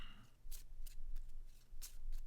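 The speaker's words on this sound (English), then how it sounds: "let's shuffle again" A deck of board game cards is shuffled at a tabletop game session, making several soft, quick riffling bursts on a quiet background.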